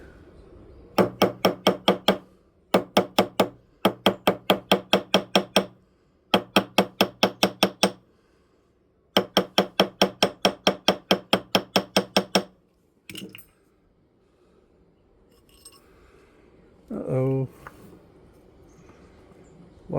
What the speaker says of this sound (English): Now we're going to be alternating between the rubber mallet and the ball peen hammer.